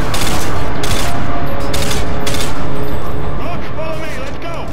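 Loud gunfire in Call of Duty: Modern Warfare 2 during a snowmobile chase mission, with several dense bursts of rapid automatic shots over a constant roaring engine-like rumble that fades slightly at the end.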